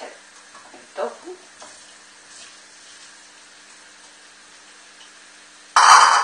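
Tofu hitting a very hot wok lets out a sudden loud burst of sizzling at the end, after a mostly quiet stretch with a few faint handling knocks.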